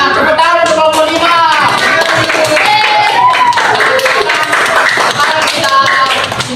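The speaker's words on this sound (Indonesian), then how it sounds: "Tepuk tangan untuk kelompok 5." A fourth-grade class claps for a winning group during a classroom lesson; steady, dense clapping runs throughout, mixed with children's voices.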